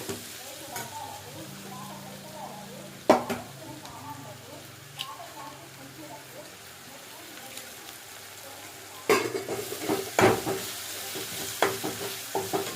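An egg goes into a pan of Maggi noodles, followed by steady sizzling and frying with scraping stirring, a few sharper clatters of the utensil against the pan, and a voice talking over it.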